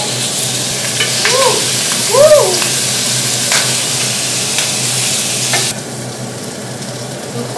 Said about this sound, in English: Ik doe gewoon een beetje die bacon zo opbakken